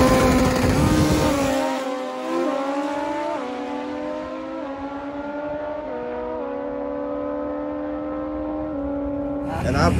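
A racing motorcycle engine holds a loud, high revving drone that steps up through several gear changes over about ten seconds, with someone talking over it and a roar at the end.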